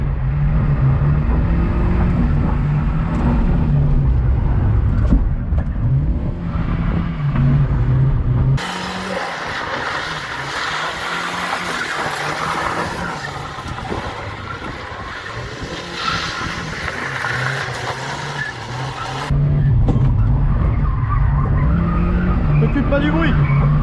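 A car drifting with the engine held at full throttle, a loud continuous roar under a long tire skid squealing through the middle, with people talking over the engine at the start and end.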